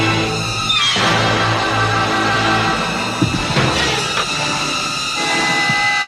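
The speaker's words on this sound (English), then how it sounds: "you got the sound of the railing of the rails, and the train pushing forward" Train from the 1980 horror film Terror Train rolling along rails, a steady loud rumble with clanking and a horn-like tone throughout, briefly swelling with a couple of heavier jolts midway.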